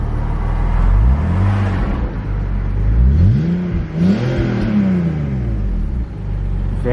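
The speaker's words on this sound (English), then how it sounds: "Give it a short rev." A 2003 BMW 330Ci engine idles, then revs up and down in short bursts, its pitch rising and falling several times. The sound is close, steady and loud, with no voices.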